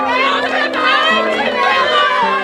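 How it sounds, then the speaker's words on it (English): A large crowd cheers and shouts at a tiny airstrip in Biloela, Australia, welcoming home a returning Tamil asylum-seeker family, with children's shrill cries rising over a continuous, loud roar of voices. "It might be the biggest crowd ever assembled at Bilowila's tiny airstrip"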